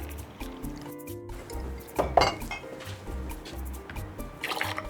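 Dark Jamaican rum poured for a tiki cocktail: a short liquid glug and splash in the middle, with gentle clinks and faint bar handling sounds before and after.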